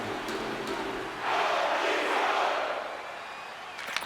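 A hockey arena crowd in the video game NHL 26 during a Minnesota Wild at Toronto Maple Leafs game, a distant background roar that swells into loud, sustained cheering and then eases back down.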